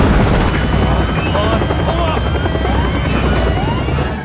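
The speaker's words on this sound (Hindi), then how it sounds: "हेलीकॉप्टर भी उड़ा लेते हैं।" Helicopter in the video game Resident Evil 6, a loud, steady rotor and engine roar that fills the whole clip with dense noise, with faint game effects layered over it.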